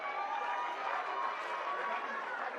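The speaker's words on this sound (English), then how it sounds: "Let's give them a round of applause." A crowd at an under-11 mixed junior football grand final gives the coaches a round of applause, with dense, even clapping and some cheering throughout, heard from a moderate distance.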